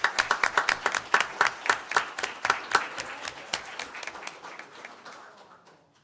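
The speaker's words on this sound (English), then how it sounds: "And let's give her a round of applause." A small audience at a school board meeting claps for a bus driver receiving a certificate, a sparse round of distinct handclaps that starts strong, thins out and fades away within a few seconds.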